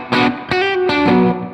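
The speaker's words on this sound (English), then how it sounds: "The second tone I want to move on to is the Spring Reverb." Electric guitar played through a ToneX amp model with a Fender-style spring reverb and a slightly broken-up edge, three loud sustained notes ringing out one after another with no talking.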